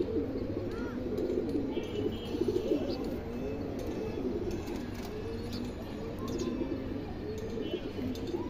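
Pigeons cooing steadily in a loft of big-headed pedigree fancy pigeons, overlapping low throaty coos repeating throughout with a few faint chirps, close and continuous.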